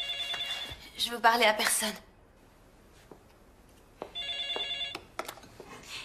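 A telephone bell rings in bursts, a ring at the start and another later, with a voice speaking over the first ring and quiet pauses in between.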